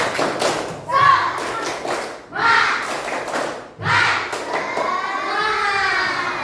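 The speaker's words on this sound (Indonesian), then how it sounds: "Dengan tepuk semangat." A group of teacher trainees standing in a hall performs the rhythmic tepuk semangat clapping chant, bursts of patterned claps alternating with shouted chanting voices, loud and close.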